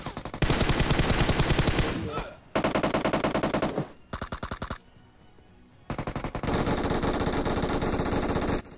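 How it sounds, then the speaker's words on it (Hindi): Rapid automatic gunfire in a battle royale video game, loud bursts of shots in several long volleys separated by brief pauses, with a quieter stretch in the middle. "उसके बाद मेरे को यूएमपी की एक गोली की आवाज आई और मैं सीधा नॉक पड़ा था।"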